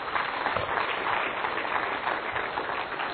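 A worship congregation clapping hands in prayer, a dense continuous patter of many hands at moderate distance, no talking over it.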